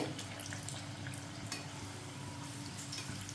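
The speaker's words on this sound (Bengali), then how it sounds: "এবার এখানে আস্তে আস্তে খাজাগুলো ছেড়ে দেব।" Khaja pastries frying in hot refined oil as oil is spooned over them, a steady close bubbling sizzle with soft crackle throughout, no talk.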